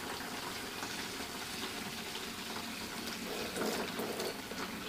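Running water pours steadily over hair during washing, a soft continuous splashing and trickling close by, quiet and unbroken for a few seconds.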